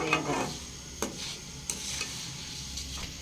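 Thin flattened rice (chira) fries in a pan for homemade chanachur, a soft steady sizzle broken by a few sharp scrapes and stirs of the spoon.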